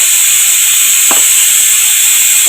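Mustard seeds sizzling in hot oil for tempering: a loud, steady, close hiss of frying throughout, with one faint clink partway through and no voices.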